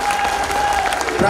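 Brief burst of applause welcoming a guest at a Maharana Pratap Jayanti ceremony in Udaipur, a dense crowd clapping under a sustained tone, close and loud.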